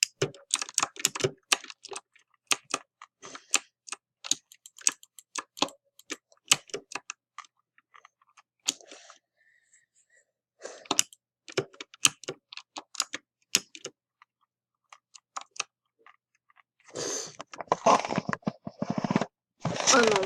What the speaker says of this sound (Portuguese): Vamos continuar focando no teclado aqui.